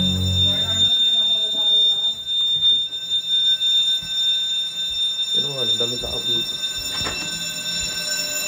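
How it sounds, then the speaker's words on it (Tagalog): A building fire alarm rings steadily with high electronic tones while people talk and move around nearby. "Fire alarm, pinapababa tayo lahat."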